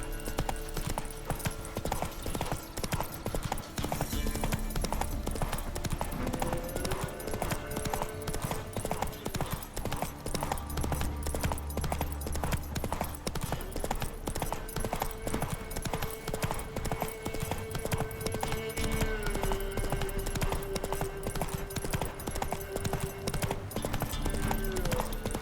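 The horse Roach gallops in the Witcher 3 video game, a rapid continuous clip-clop of hooves over a steady music bed, with brief speech and a faint whinny.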